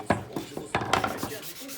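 Wooden subwoofer rack pieces are hand-sanded for finishing in a small workshop, giving a quick series of short, dry rasping strokes up close, uneven in rhythm.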